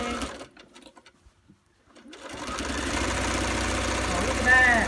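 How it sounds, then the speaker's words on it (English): Household sewing machine stitching binding on a quilt edge, running steadily after a few quiet pauses and growing louder toward the end, with faint talk early on. "now just continue on your stitching"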